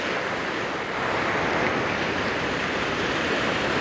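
Sea waves wash onto the shore at Samsun as someone wades in, a constant broad hiss of surf with wind buffeting the microphone, loud and steady with no voices.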